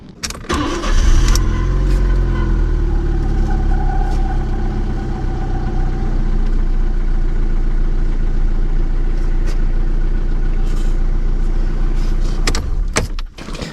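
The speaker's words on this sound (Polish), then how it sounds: "Dobra, silnik chodzi ładnie." A car engine starts and settles into a steady, loud idle that runs on for several seconds before cutting off near the end.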